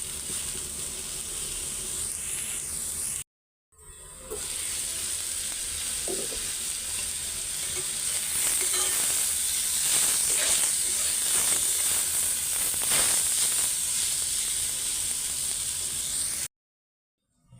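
Vegetables fry in a pan with a continuous loud, close sizzle and hiss, occasional stirring scrapes breaking through, interrupted by two brief silent gaps.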